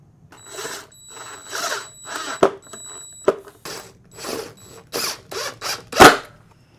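A power drill drives 3/4 inch screws into an animatronic Santa build, with repeated short bursts of whirring and ratcheting and sharp clicks as each screw seats, close up and with no talking.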